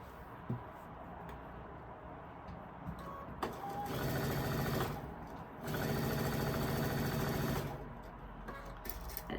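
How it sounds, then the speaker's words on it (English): A sewing machine runs in two steady bursts while stitching quilt pieces, with quieter handling sounds before and between the runs. "And now I'm going to clip this, and I'm going to continue sewing."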